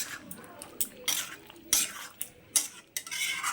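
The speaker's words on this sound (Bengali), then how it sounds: "এবার এগুলোকে খুব ভালো করে মিশিয়ে নেব।" Fried spice mix being stirred into chicken in a cooking pot, with a spoon scraping and clacking against the metal in repeated quick strokes over a faint sizzle, close and fairly quiet.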